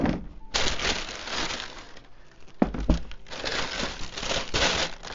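Thin white paper crinkles and rustles inside an Air Jordan 6 Carmine shoe box, a close, continuous crackling handling sound with brief pauses and a few sharper crunches.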